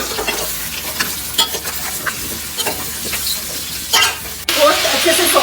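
Mutton and potatoes stirred and frying in a pot, with a steady sizzle broken by repeated scraping stir strokes and clinks, growing louder near the end.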